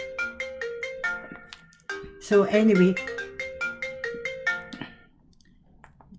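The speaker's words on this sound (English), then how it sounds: "phone's ringing there, put me off" A telephone rings nearby with a repeating electronic melody of bright tones, which continues as someone talks briefly over it and then fades toward the end.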